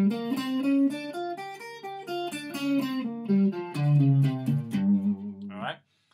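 A guitar plays a blues scale with blue notes, picked one note at a time in a clear, close line of distinct tones before stopping abruptly into silence.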